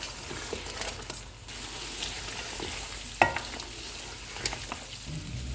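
Spices with a little water sizzle in a pan for mutton korma, a continuous moderate frying hiss with a sharp clink of a utensil midway and light stirring scrapes throughout.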